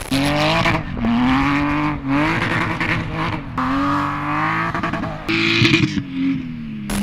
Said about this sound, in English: put it in first gear, and let it sit on the rev limiter for minutes at a time